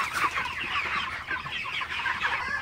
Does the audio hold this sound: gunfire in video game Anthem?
no